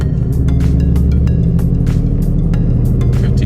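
A Ford Mustang GT engine holds a steady elevated idle around 1,500 RPM, a loud, even, continuous rumble close by with no talk over it.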